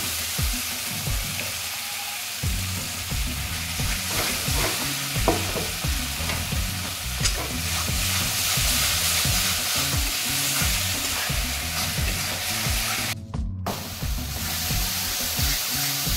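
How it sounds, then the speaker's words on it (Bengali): Spice paste with tomato paste frying in a pan, a steady close sizzle with repeated stirring scrapes running throughout, no talking. "মশলাটা আমার ভালোভাবে কষানো হয়ে গেছে"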